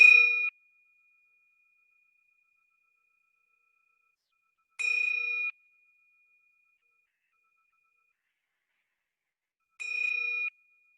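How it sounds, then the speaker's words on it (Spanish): Three clear meditation bell strikes, evenly spaced about five seconds apart, each ringing out with a long fading tone in a quiet space. "El sonido de 3 campanadas indicará el momento en que la meditación inicia"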